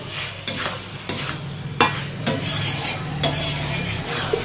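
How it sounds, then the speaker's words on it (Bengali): Cauliflower and potato curry with spices being stirred in a pan, a series of distinct scraping strokes roughly every half second over a steady close sizzle. "ভালো করে একটু মশলার সঙ্গে নাড়াচাড়া করে মিশিয়ে নেব মশলাটাকে"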